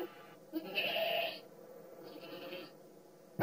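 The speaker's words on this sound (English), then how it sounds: "It's a goat." A goat bleats twice, a long wavering cry followed by a shorter, fainter one, close and clear over a quiet background.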